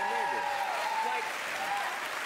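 A crowd of audience members applauds at a political talk, dense continuous clapping that fills the room, with cheering voices mixed in throughout.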